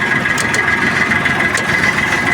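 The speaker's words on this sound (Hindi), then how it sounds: "देख लो अभी ट्रैक्टर ने रेस दिया" A tractor engine runs in a steady, sustained drone with a whining tone, heard close and continuous across the whole stretch with no talk.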